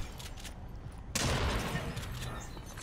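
Video game gunfire from a pistol and an AR, a sudden dense burst of shots that cuts in partway through and carries on, loud and close with game noise beneath.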